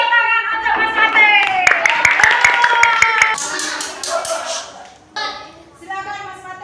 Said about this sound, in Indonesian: Beri tepuk tangan untuk Mas Fatih.